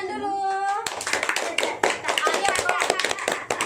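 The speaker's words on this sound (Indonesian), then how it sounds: "Kita kasih tepuk tangan dulu." Fifth-grade classroom children clap their hands for a classmate, a burst of quick irregular claps that starts abruptly after a brief spoken or sung voice and continues with scattered kid voices underneath.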